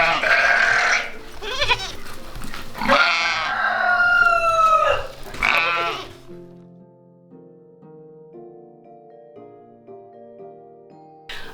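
Sheep or lamb bleating at a farm sanctuary, several loud wavering bleats close by for the first six seconds, then quieter sustained tones carry on beneath.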